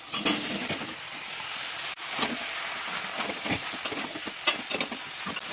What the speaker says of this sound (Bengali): এর মধ্যে আমি ভেজে রাখা আলু আর কপিটা ঢেলে দিচ্ছি